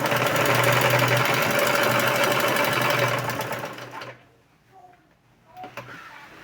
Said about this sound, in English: I'm going to sew straight down.